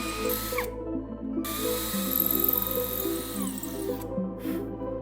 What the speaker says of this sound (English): Drill these 3 holes with a 5mm diameter drill bit.